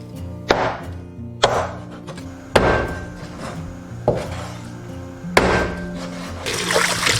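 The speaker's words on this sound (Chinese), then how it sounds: "首先就是把鸡屁股切掉，不要把鸡脚斩掉，把鸡腿、鸡翅先切下来" A cleaver chops raw chicken into pieces on a board, about six heavy, evenly spaced thuds with short ringing tails and no voices.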